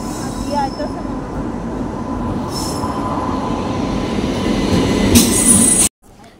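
A train rolls through New Alipurduar station: a loud, steady rumble of wheels and carriages with metallic squealing that swells near the end, then cuts off abruptly.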